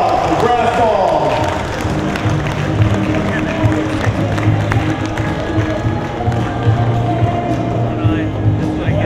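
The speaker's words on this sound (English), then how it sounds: "Big round of applause for Brass Balls." A crowd claps and cheers at the 2010 AMD World Championship custom motorcycle show, a steady wash of applause with a speaking voice over it throughout.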